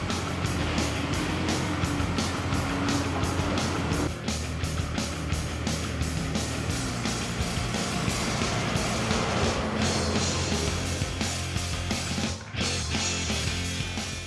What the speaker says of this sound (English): Time to pick up speed now as the KF47 makes its way towards the sand.